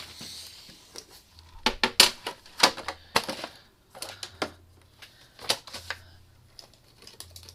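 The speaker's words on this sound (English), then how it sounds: "you need to score this card with these measurements" Card being scored with a card scorer tool, a string of sharp clicks and scraping taps at an irregular pace, close and fairly quiet, heard on its own.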